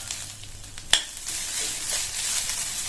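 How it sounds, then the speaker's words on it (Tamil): Grated coconut and spices sauté in hot oil with a steady soft sizzle, broken by a single sharp scrape or clink of a spoon against the pan. "லைட்டா இதை ஒரு அரை நிமிஷம் போல வதக்கி விட்டுட்டு ஸ்டவ் ஆஃப் பண்ணிடலாம்"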